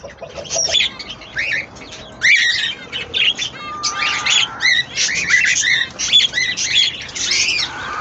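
Caged Fellow split birds and their three newly hatched chicks chirp and tweet busily, with dense overlapping calls, short squawks and a brief flutter of wings, fairly close and continuous.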